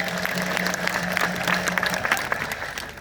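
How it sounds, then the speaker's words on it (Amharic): A church congregation claps together in sustained, dense applause that stays fairly even and moderately loud for its whole length, with no clear voices standing out above the clapping. "አጨብጭቡለት ለጌታ ክብር።"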